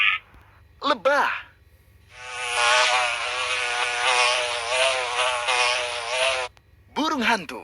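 A bee buzzes in a sustained, steady drone for several seconds, loud and close, framed by short bursts of other sounds at the start and end.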